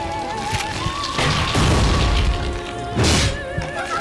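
A grenade launcher fires in Resident Evil: The Darkside Chronicles, with two loud, heavy booming blasts a second or so apart over low game ambience and tonal music.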